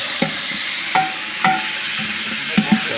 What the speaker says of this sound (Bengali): এটা ভেজে নিচ্ছে। আগে কিছুটা ভেজে কমপ্লিট, ভাজা কমপ্লিট।